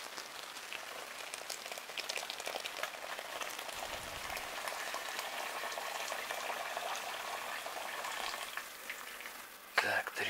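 Hot water pours steadily from a kettle with a continuous hissing splash, close by, ending with a brief clatter.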